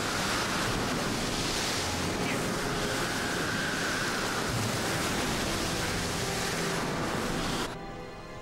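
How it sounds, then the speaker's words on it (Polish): Heavy sea waves surge and wash in a continuous loud roar of broadband surf, blended with wind noise, before it abruptly quiets near the end. "Fale zrobiły się cięższe."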